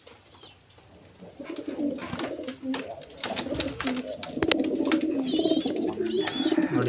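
Pigeons coo repeatedly in a home loft cage, soft rolling calls layered close together and growing fuller toward the end, with a few higher chirps above them.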